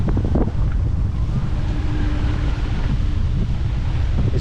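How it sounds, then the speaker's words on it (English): Strong wind roars over the open ocean aboard a 26 ft sailboat on a solo passage to Hawaii. The loud, continuous rumble mixes with the wash of waves against the hull. "Even though the wind doesn't really go down."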